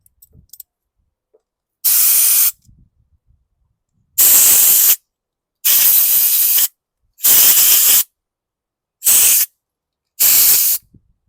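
Six loud bursts of aerosol spray hissing into a Toro Recycler lawn mower, each about a second long, separated by short pauses of near silence.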